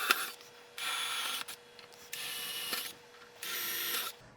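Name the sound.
drill boring pilot hole through wooden picture frame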